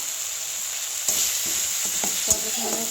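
Spice paste cooking in hot oil in a pan for a mixed-vegetable labra, a steady sizzle with a few scraping stirs of a spoon against the pan, close and fairly loud.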